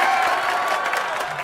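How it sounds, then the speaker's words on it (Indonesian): Audience clapping and light cheering at a political talk event in Indonesia, a dense steady patter of many hands that carries at even loudness through the short stretch. "kita kasih tepuk tangan dulu"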